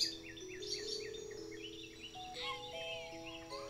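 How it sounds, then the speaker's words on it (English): Birds chirp and tweet outdoors in a steady mix of short, repeated calls, fairly close, alongside a faint insect-like buzz and some thin whistling tones, with no talking. "the birds are chirping like a mother trucker"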